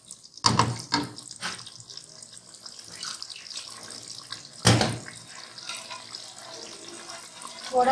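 Water poured into chicken korma in a home kitchen, quiet splashes and trickling with a couple of sharper bursts, faint and close with no talk.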